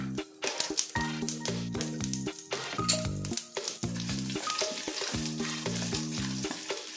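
Chana dal and raw peanuts fry in hot oil with popped mustard seeds, a steady close sizzle broken by frequent rattling stirs and clinks against the pan, with no voices.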